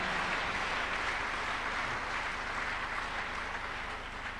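Congregation at a Tuesday miracle church service clapping together, a steady wash of many hands heard at a distance, continuous and even for several seconds with no one speaking.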